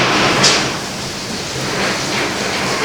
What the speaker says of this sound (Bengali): বৃষ্টির শব্দ মনে হচ্ছে শুনতে পাবেন।